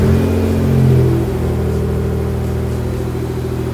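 A Mitsubishi GTO twin turbo engine runs close by, a steady mid-pitched drone with a brief rise in revs near the start before settling.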